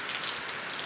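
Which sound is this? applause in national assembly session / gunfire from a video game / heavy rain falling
heavy rain falling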